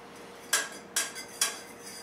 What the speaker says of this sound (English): Just stir it right around there.